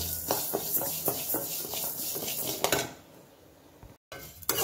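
Split moong lentils are dry-roasted and stirred in a pan, giving quiet, irregular scraping and clicking taps of utensil against metal that fade near the end.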